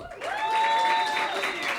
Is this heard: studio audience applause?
yes